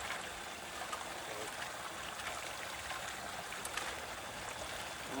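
Water pumped through a gold-prospecting highbanker washes over the gear in a steady, broad rushing flow, continuous and close with no talk.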